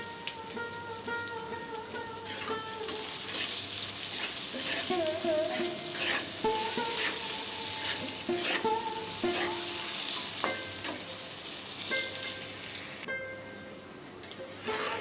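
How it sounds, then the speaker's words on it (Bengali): Eggplant pieces sizzle steadily in hot oil with salt and turmeric, a dense continuous frying crackle with occasional stirring clinks and no talk. "লবণ হলুদ দিয়ে বেগুনটা লাল লাল করে ভেজে নেব।"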